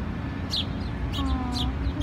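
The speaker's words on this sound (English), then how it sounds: "There are birds hopping in this tree." Small birds in a downtown city tree give faint, scattered chirps and short calls, a few brief bursts over steady background street noise.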